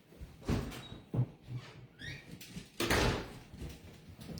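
A house door being opened and closed in the cold to let a dog back in, with soft thuds, a latch click and a sliding scrape, faint and close by.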